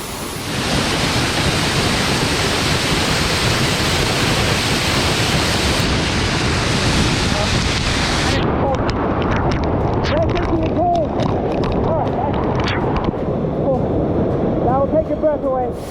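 Battle Creek Falls in Utah roars from close range, a dense, loud rush of falling water that thins out partway through and then continues more softly.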